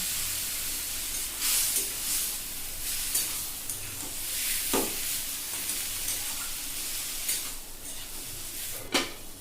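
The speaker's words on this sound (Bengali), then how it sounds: "আস্তে আস্তে ভাজা ভাজা করে নেবো এগুলোকে" Taro stolons fry in a covered pan with a splash of water, giving a steady, close sizzle and hiss with occasional sharper crackles and pops throughout.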